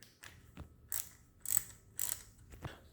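Ratchet tightening timing chain guide bolts on a Ford 4.0L SOHC V6, with about half a dozen quiet, close clicking strokes in an uneven rhythm.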